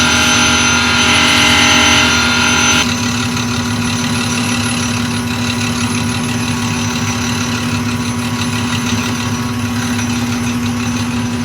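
A Highland Park SM1 shaping machine grinds steadily as its wheel cuts a part, a loud continuous motorized whine and hum with a slightly brighter, harsher cutting texture in the first few seconds.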